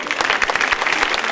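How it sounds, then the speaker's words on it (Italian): Dense, lively audience applause at a film festival award ceremony, a continuous loud wash of many hands clapping close and alone without voices. "Un applauso corale."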